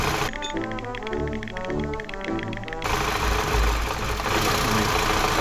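A 2011 Chevrolet Cruze engine idling roughly and shaking, a close steady mechanical drone with a rhythmic ticking pulse that turns harsher and noisier partway through.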